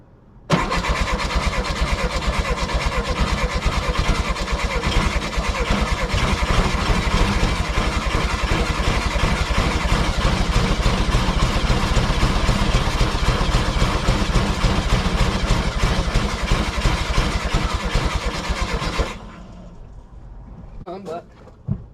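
A 1970 VW Beetle, abandoned for twenty years, cranks and fires up, then runs loud and rough for about nineteen seconds before cutting out to a quiet tail.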